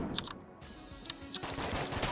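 Gunfire in the Enter the Gungeon video game: short bursts of rapid shots, then a denser stretch of quick successive firing toward the end, moderately loud with a brief lull early on.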